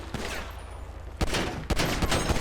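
Rapid gunfire in a GTA 5 police shootout with a sheriff patrol, a burst of loud sharp shots firing in quick succession, with a brief pause midway before more shots crack out.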